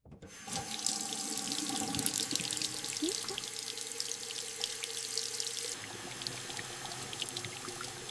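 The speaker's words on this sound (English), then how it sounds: "I will turn on the water." A kitchen water tap gushes into a sink full of dishes in a loud, steady splashing stream that starts abruptly, then drops to a softer, even flow partway through, with no talking.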